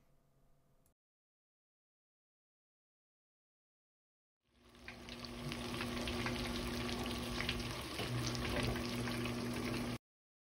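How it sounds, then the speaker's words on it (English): Chicken wings deep fry in hot oil, a dense bubbling sizzle that starts after a stretch of silence and holds steady and close until the end. "Once you've lowered all the wings into the oil, cook them for about 8 to 10 minutes"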